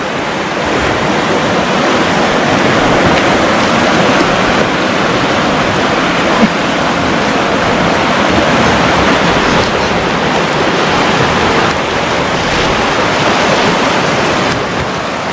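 River rapids rush between rocks at Sandy Falls in West Nipissing, Ontario, a steady, loud, broadband roar of churning water that fills the whole clip without a break.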